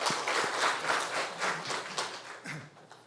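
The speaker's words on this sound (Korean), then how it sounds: "우리 먼저 한번 격려의 박수 해주시겠습니까?" A church congregation at a Sunday service claps in encouragement for a returning elder, a soft, fairly distant patter of many hands that thins toward the end.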